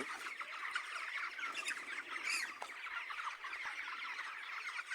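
Chickens cluck and squawk in a busy, overlapping chorus, fairly faint and somewhat distant, with no voices over them.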